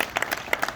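A crowd at an outdoor gathering of soldiers claps in a dense, steady patter of applause, brief and moderately loud, with no talk.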